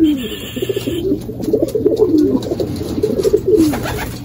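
Racing pigeons cooing in soft, repeated low warbles, close by, with faint background hiss and no talking.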